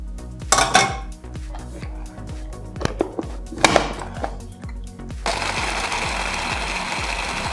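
Hard grinding clatter rattles in choppy bursts, then a food processor grinding pistachios with syrup settles into a steady loud whirring grind.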